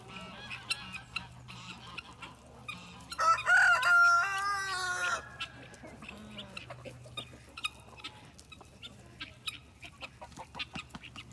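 Guinea fowl kept with chickens give a burst of loud, harsh, rhythmic calls in the middle, with scattered softer clucks and rustling around it in a quiet yard.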